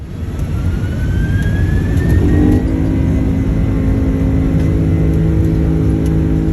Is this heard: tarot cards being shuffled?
no